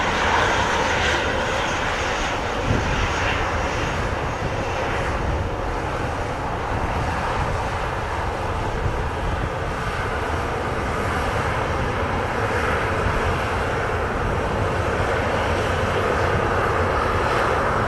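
Airbus A330 airliner engines at Montego Bay airport in Jamaica, with a loud, continuous roar that holds steady and close for the whole stretch, and no talk.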